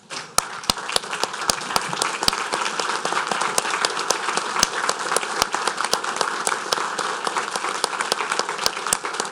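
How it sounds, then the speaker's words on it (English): Steady applause from a crowd at a parish council meeting, dense and continuous over several seconds, with occasional louder individual claps standing out and little talk. "give you a round of applause"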